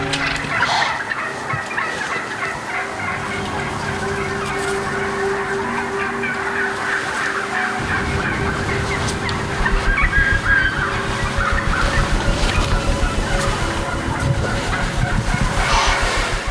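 Wild turkeys gobble during a deer hunt, loud rattling gobbles bursting repeatedly over an outdoor background, growing more frequent and closer toward the end, with no one talking.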